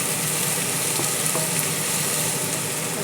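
Beans frying in a pan for a beans curry: a steady, dense sizzle, close and fairly loud, running throughout with no talking.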